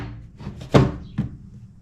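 An Ultenic dual air fryer drawer is pulled open with a solid thunk, then a smaller clunk about half a second later, close and fairly loud against a quiet room.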